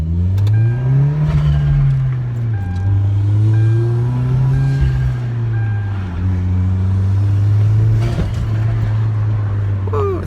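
A 2.0 Genesis coupe with an HKS blow-off valve, heard from inside the car: a loud, steady engine drone that rises and falls as the car accelerates, with brief hissing bursts from the valve.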